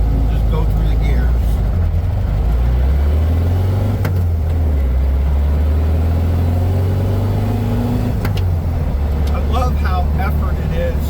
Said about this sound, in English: So there's first, and we'll just go through the gears.